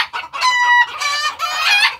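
Chickens cluck and squawk up close in a loud, busy burst on a poultry farm of about 450 hens and 40-60 roosters, with a rooster-like crowing call rising among the flock.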